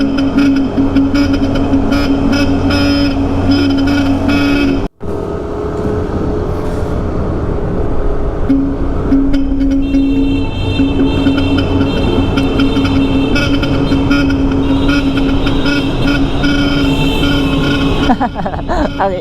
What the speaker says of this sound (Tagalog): Ang iingay na mga motor.